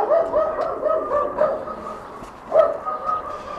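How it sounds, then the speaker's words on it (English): Large dogs bark loudly from inside a house behind a closed window, a burst of deep repeated barks at the start, a pause, then another bark and more barking, muffled and fairly close. "There was a lot of very loud barking, however, and I could see dark shapes, obviously large dogs, jumping up against the window from inside."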